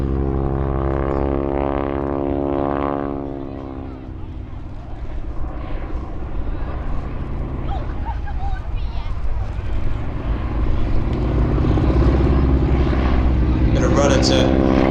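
A Boeing Stearman biplane flies a wing walking display at the Sywell Airshow. Its radial engine and propeller drone loudly with a shifting pitch, fading a little and then building again as it passes.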